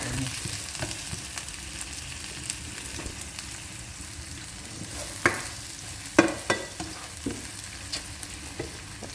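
Biryani masala stir-fried in a pot for a turkey biryani, giving a steady close sizzle with scraping spoon strokes and a few sharper clanks against the pot, no talking.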